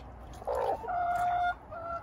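A grumpy hen clucks and grumbles close by in a village coop, a short burst of throaty notes followed by drawn-out, nasal complaining calls, fairly loud and with no voices.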